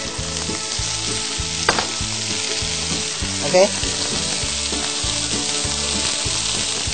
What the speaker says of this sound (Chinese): 跟红萝卜煎下来